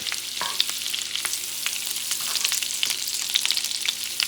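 Fat melting in a hot pan while being moved around, giving a steady crackling sizzle with frequent small pops and light stirring scrapes, close and without speech.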